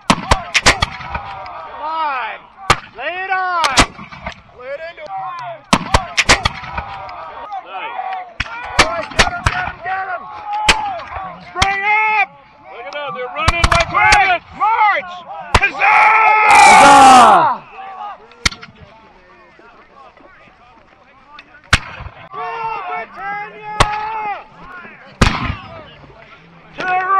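Musket volleys and artillery at a Hubbardton battle reenactment, with sharp close shots firing in irregular bursts and one heavy blast, while voices shout orders between the reports.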